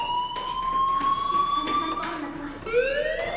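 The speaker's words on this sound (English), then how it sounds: "do you hear that fire alarm?" Fire alarm sounding in the Life is Strange video game, a loud rising electronic wail that breaks off and starts again, with a voice speaking faintly underneath.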